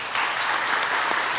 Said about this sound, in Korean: 자리에서 일어나실 때 우리 큰 박수로 환영하며 축복하겠습니다